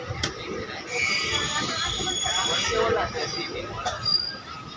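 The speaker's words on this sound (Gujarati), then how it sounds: "તો હવે ટ્રેન જામનગરથી ખંભાળી પૂગી અને પાછી અહીંયા ઊભી રહીને હાલવા માંડી છે।" A passenger train travelling from Jamnagar to Khambhalia in Gujarat rumbles and clatters on the rails, with squealing wheels and rising and falling rolling noise, heard from inside among faint background voices.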